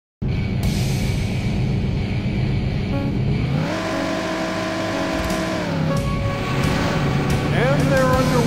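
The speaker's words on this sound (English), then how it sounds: "Gentlemen, start your engine." Race car engines in the Daytona USA arcade racing game on Sega Saturn drone steadily and loudly, then rev with rising pitch as the cars get going, a dense continuous engine roar.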